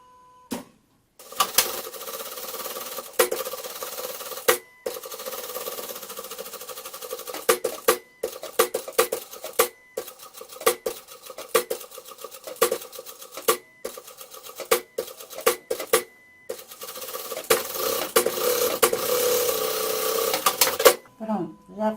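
A sewing machine stitches a bucket bag in repeated loud bursts of rapid mechanical whirring, separated by short pauses and clicks, close up.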